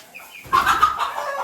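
A single chicken gives a short burst of clucking, fairly close and loud, with no talking, among a rooster and other chickens.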